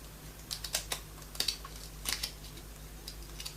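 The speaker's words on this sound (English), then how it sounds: "we're going to move our scissors as many times as you need to achieve this distressed look" Scissors snipping along paper edges to give a distressed look while making a miniature book: a run of sharp, quiet clicks in irregular bursts, with no talking.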